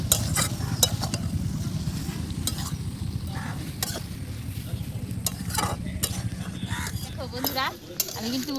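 Fish dry-frying in a pan without water during village-style cooking on a boat, with a low steady sizzle and repeated sharp scrapes and clinks of a utensil stirring, while someone talks over it.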